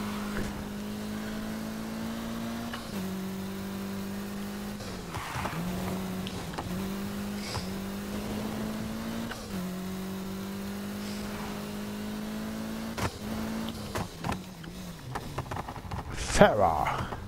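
Race car engine in Need for Speed Heat climbs in pitch and drops repeatedly as it shifts up through the gears, loud and close, with a voice faintly under it.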